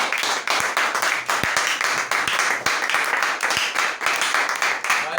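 A church congregation claps together in steady, rhythmic applause, loud and continuous throughout, with faint voices mixed in.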